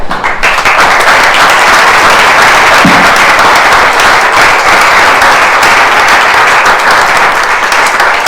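Loud, dense applause from a large audience at a retirement ceremony for a retired lieutenant colonel, sustained steadily throughout with a brief low tone near the middle.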